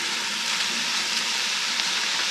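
Cauliflower, partly from a frozen bag, hits a hot pan and sizzles, a steady close frying hiss that runs unbroken with no talk.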